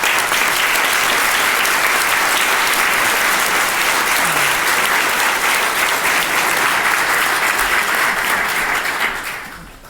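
An audience at a community forum applauding actors, dense sustained clapping from a full room that holds steady for several seconds before tapering off at the end.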